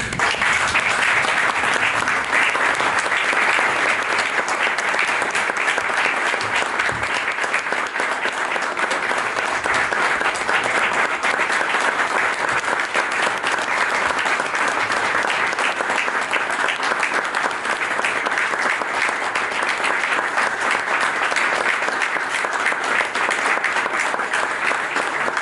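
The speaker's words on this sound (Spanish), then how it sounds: "yo les pido una ovación de pie para Jorge Taranto" A standing ovation for Jorge Taranto at a talk on the Malvinas, a large crowd clapping in a loud, dense, unbroken roar that holds steady for the full stretch.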